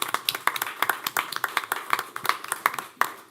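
Scattered clapping at a city hall meeting, a small group producing distinct, uneven hand claps in a loose rhythm, close and clear with no talking.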